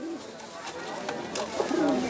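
Pigeons for sale at a village market in Bagerhat, Bangladesh give a few low, soft coos amid the busy market din, with a brief, clearer call near the end.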